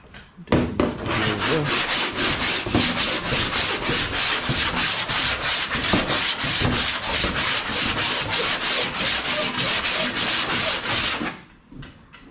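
Steady rhythmic rasping of a metal file scraping across a Datsun 1200 coupe body panel, close and loud, with regular back-and-forth strokes for about ten seconds before stopping.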